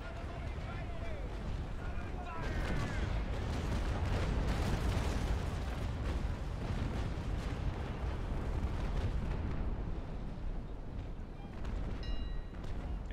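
Ship cannon fire in the naval combat game Naval Action, dense rumbling broadside booms and crashing impacts rolling on for several seconds under excited voices.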